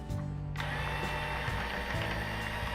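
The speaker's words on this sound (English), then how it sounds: "we're just going to take our mixer here and give it a whirl" An electric hand mixer whirs steadily while beating a Jiffy corn casserole batter, a continuous close motor drone with a rattling mechanical edge that briefly drops in pitch and picks back up.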